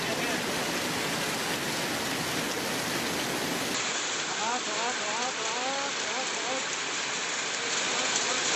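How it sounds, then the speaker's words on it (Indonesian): Heavy rain driven by strong wind in Cimahi, West Java, roars as a steady, dense wash of noise throughout, with a news presenter talking over the second half. "Hujan dan angin kencang mengakibatkan sejumlah pohon tumbang."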